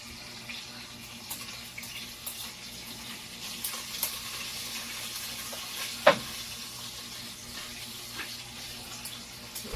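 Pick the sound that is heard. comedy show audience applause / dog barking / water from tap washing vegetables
water from tap washing vegetables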